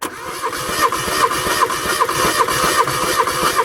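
Mazda 323 engine cranking on the starter, a loud rhythmic chugging churn pulsing steadily throughout the short stretch, without speech.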